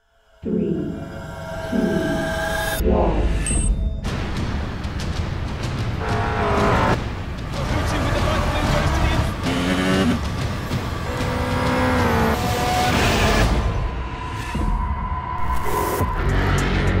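Race cars in the iRacing sim racing game at Homestead-Miami Speedway roar and rev, with engine pitch rising and falling through shifts and passes, loud and continuous for most of the stretch after a brief quiet opening.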